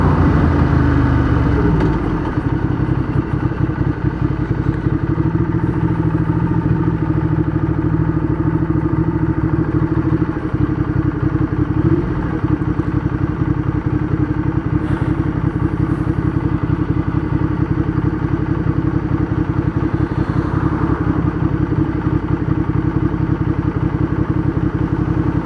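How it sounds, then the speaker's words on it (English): A Ducati Diavel motorcycle engine runs steadily and loudly throughout, close by, with a rough idle and crackle in the exhaust. "Bit of a crackle on the exhaust."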